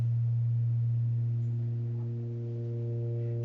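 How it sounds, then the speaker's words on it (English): A steady FM synthesizer tone, one operator modulating another, with layered harmonics and a slowly shifting timbre as modulation changes, sustained without pause. "you can hear that the sound is changing"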